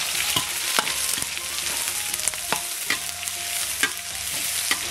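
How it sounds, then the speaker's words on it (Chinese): Scallion, ginger and salt stir-fry in hot oil in a wok with a loud, dense sizzle and irregular clacks of a spatula on metal, with no voices present. "锅中倒油，油热，盐葱姜爆香"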